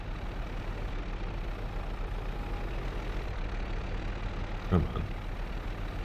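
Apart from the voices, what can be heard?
tractor engine running, from a farming video game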